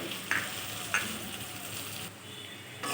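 Spice paste frying and being stirred in a pan with already fried potatoes, for a thin Bengali fish curry: a soft, steady close sizzle broken by two sharp spatula scrapes early on, with a faint shift near the end.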